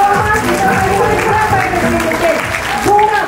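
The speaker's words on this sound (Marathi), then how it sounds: "कंपनीसाठी जोरात टाळ्या झाल्या पाहिजेत" A crowd claps steadily throughout while a loud voice talks over the applause.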